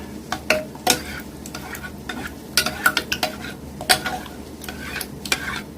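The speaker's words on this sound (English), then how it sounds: "we're going to go ahead and stir all this together" A spoon stirs a homemade meatball mixture for spaghetti and meatballs in a bowl, making intermittent scraping clicks and clinks that come in uneven bursts, close and fairly loud, with no talking.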